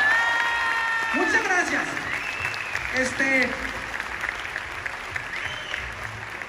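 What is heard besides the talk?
audience applause at a live show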